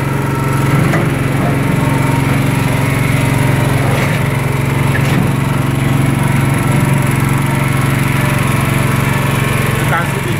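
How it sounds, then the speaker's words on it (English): A portable generator running on gas with its fuel tank removed drones steadily and loudly, a constant close engine hum with a few faint knocks and a voice talking over it. "You can see the gen is without the tank and it's still running."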